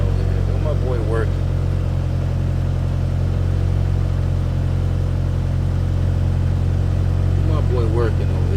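Car engine holding a high idle, giving a steady, loud, unbroken hum and drone throughout, with a person talking briefly over it near the start and again at the end.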